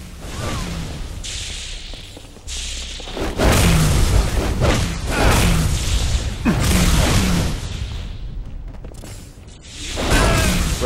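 Bomb detonation in a Halo: Reach Grifball match, a loud booming blast with rumbling mechanical whooshes around it, heavy and sustained for several seconds, with game sounds continuing afterward.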